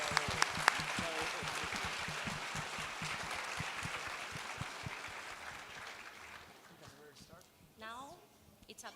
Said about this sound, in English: A huge applause, please.